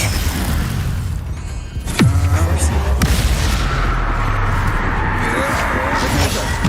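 Fiery spell blasts in Hogwarts Legacy: a heavy boom near the 2-second mark, then a dense roar of fire and crackle over a rumbling battle bed, loud and close throughout.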